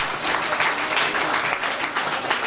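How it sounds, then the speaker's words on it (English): Steady, dense applause from a crowd at a primary school induction ceremony fills the space, loud and continuous throughout. "So clap our student leaders one more time"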